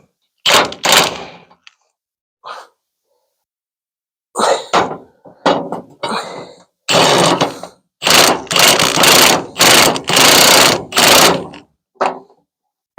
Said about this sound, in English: Getting crazy with the impact here. This is definitely overkill.